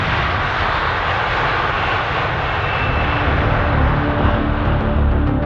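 Airbus A350 XWB jet engines run steadily in a loud, continuous broadband roar with deep rumble, sustained throughout with no voices.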